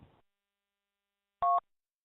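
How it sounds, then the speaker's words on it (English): A single touch-tone telephone dialing beep sounds once, short, clear and close, after a brief faint noise, with silence around it. "I'm calling you from the broadnet phone number, so it's a different number."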